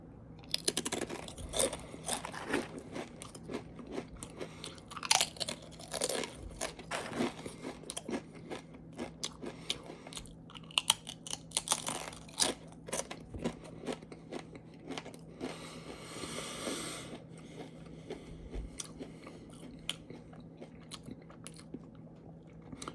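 Tortilla chips crunched and bitten close to the microphone, a series of sharp crisp snaps followed by steady chewing, loud and intimate against a quiet background with no talking.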